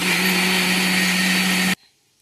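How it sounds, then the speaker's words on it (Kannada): A mixer grinder whirs loudly and steadily as it grinds waffle batter, then cuts off abruptly and leaves a short quiet tail. "ಮಿಕ್ಸಿ ಮಾಡ್ಕೊತೀನಿ"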